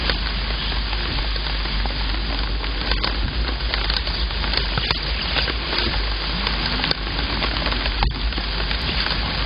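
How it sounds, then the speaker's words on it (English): Very heavy rain pours down on a lawn during a thunderstorm while a robotic lawn mower works in it, making a loud, dense, unbroken hiss with scattered sharper drop impacts throughout. "So we are in a very heavy rain right now, and Luba is just completely confused."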